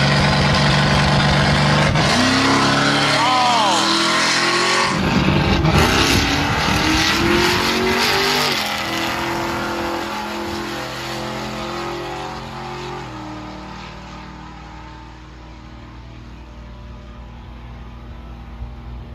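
An LS-swapped Chevy Blazer launches down a drag strip on nitrous, engine roaring and climbing through gear shifts before fading into the distance as the truck pulls away.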